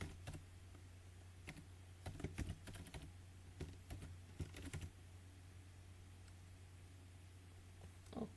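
Code being typed on a computer keyboard gives soft, quiet key clicks in irregular bursts, denser in the middle, over a low steady electrical hum.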